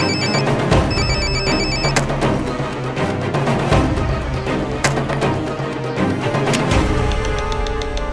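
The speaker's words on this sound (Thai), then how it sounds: "มือถือของอเล็ก" A mobile phone rings in a dramatic TV scene, its repeating electronic ringtone playing loudly over dense musical score and sharp percussive hits, continuous throughout with no talk.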